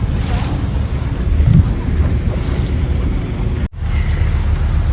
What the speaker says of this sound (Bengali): আমি এখন আছি হাউস বোটে, আমাদের এলিপির মানে কেরালার এলিপির হাউস বোটে আছি।